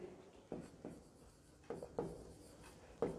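Marker or chalk writing on a board during a chemistry lecture on electrochemistry, several short scratchy strokes at uneven intervals, close but quiet, with no talk.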